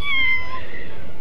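A cat meows in the video game Scribblenauts Unlimited, one short, clear, rising-then-falling meow heard on its own.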